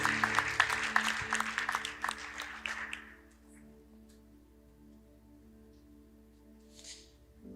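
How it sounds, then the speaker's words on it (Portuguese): A church congregation claps together for about three seconds in a dense, loud burst of applause, then the clapping stops abruptly. A quiet hum of the room and faint sounds remain afterward. "Dê um aplauso ao Senhor."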